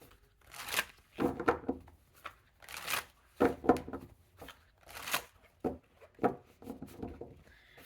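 Tarot cards shuffled by hand in a quick, uneven series of riffling, papery bursts with short pauses between them, close and fairly quiet, no voice over it.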